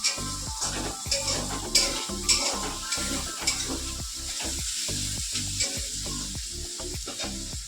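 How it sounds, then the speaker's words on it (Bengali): Garlic frying in a pan sizzles steadily up close while a utensil stirs it with rhythmic scraping strokes, loud and continuous with no voices over it. "আমি রসুনটা ভাজছি"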